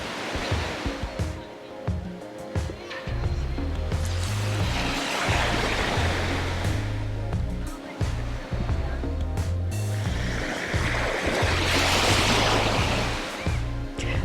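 Surf rolls onto the shore in long, loud washes over a steady low musical bed, two big swells rising and receding without any voices.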